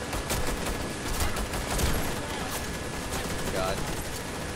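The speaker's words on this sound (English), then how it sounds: "Where's this guy even shooting from?" Continuous dense gunfire from the online shooter Warface, loud, sustained exchanges of rapid shots filling the scene without pause, with no talking.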